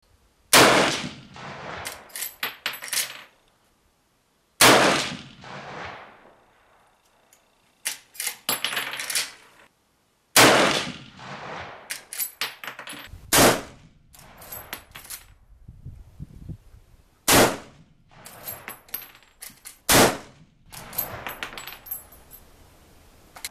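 A Marlin 336 lever-action rifle fires at a 100-yard target in sharp, loud single reports spaced several seconds apart, each trailing off, with metallic clicks from the lever between shots.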